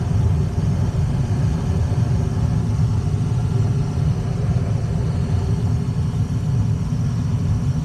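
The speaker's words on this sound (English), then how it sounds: "So we have ignition, our igniter turns back on. Flames look pretty good." Comfort Maker furnace burners run after the igniter lights them, giving a steady, even low roar and rumble that holds without a break throughout.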